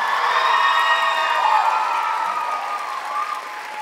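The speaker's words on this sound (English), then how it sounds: "Please join me in giving Shriya another round of applause" An audience applauds after an Indian classical dance debut recital, a dense, loud ovation of many hands with a few faint cheers, tapering slightly toward the end.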